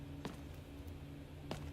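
Footsteps in the Delta Force video game: two soft, separate steps about a second apart, faint against steady in-game background hum.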